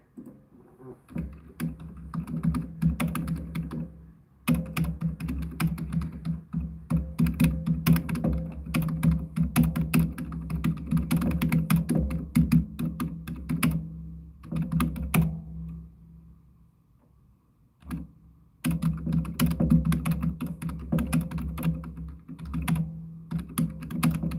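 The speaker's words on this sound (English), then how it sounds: "I'm typing this" Steady keyboard typing, close and clear, with rapid clicking keystrokes continuing for a long stretch, broken by a couple of short pauses.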